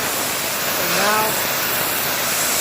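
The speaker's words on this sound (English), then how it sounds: "I'm letting the pressure washer do the agitating for me" A loud, steady hiss of a pressure washer spraying carpet runs throughout, with a brief faint voice-like warble partway through.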